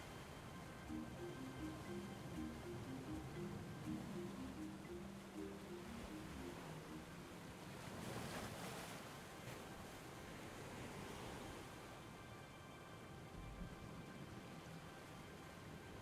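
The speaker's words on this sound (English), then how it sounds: "soft movement of the waves" Soft waves moving on open water as a quiet ambient backdrop, a steady, gentle wash of surf with no activity or voices, holding evenly at low level throughout.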